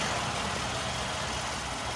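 A Land Rover LR4 idles steadily outdoors, a low, even engine rumble heard faintly and continuously with no voices.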